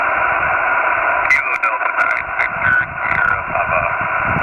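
A ham radio contact signal comes through band static during a portable park activation, voice-like bursts and chirps rising out of a continuous hiss of noise.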